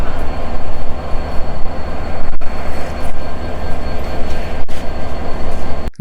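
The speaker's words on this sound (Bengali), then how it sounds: "শহরতলি স্টেশন থেকে বেনাপোল এক্সপ্রেস ট্রেনটি ছেষট্টি সতেরো ইঞ্জিন নিয়ে ছাড়ল" The Benapole Express passenger train rumbles steadily and loudly nearby as it departs a station, a heavy continuous roar of wheels and carriages with brief rhythmic clanks as it pulls away.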